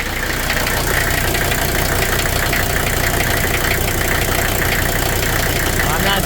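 A 1982 Mercedes-Benz 300D diesel idles after fresh injector return lines are fitted, a steady close rattling clatter with rhythmic knocking throughout.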